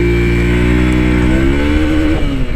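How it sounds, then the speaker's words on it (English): A fuel-injected motorcycle engine revs hard toward the top of its range, its loud, close drone climbing steadily in pitch without a break. "Going through the gearbox, really smooth shifts, and yeah, motor gets vocal in the top end."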